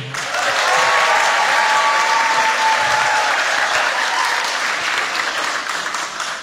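An audience at a church hymn night applauds for a band, with steady, dense clapping from many hands that swells quickly, holds for several seconds and fades at the end.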